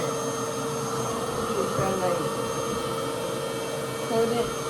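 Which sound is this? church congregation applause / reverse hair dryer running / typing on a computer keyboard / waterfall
reverse hair dryer running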